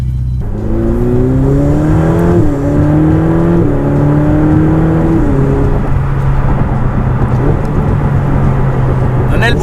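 Ferrari 488 Pista turbocharged engine revving on a street, loud and close, its pitch rising in stepped surges before settling into a steady drone.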